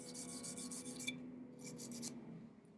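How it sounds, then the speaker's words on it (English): A bore brush scrubbing dry on the parts of a Taurus 1911 pistol, a quiet series of short bristly strokes in rhythmic bursts that pause and then resume, heard close up. "You can use that same bore brush in certain areas like these that you can't get a brush or a cloth into."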